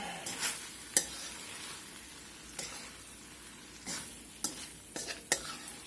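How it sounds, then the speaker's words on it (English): Broccoli tossed in a hot pan for Mongolian beef and broccoli gives a soft, steady sizzle, broken by a few sharp scrapes and clinks of a utensil, faint and close with no talking. "We're going to go in with our broccoli. We're going to give this one little toss about."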